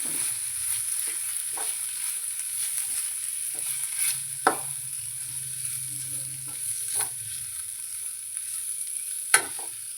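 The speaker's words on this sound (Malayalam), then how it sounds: "ഈ പൊടികളൊക്കെ നമുക്കൊന്ന് മൂപ്പിച്ചെടുക്കണം" Kashmiri chili powder and chicken masala roasting in a pan for cauliflower masala curry give off a soft, close sizzle with a few sharp scrapes and taps from stirring.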